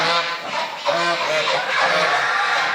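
Geese honk close by on a farm at night in repeated nasal calls, several overlapping honks in quick succession over a noisy background, as water is splashed on them.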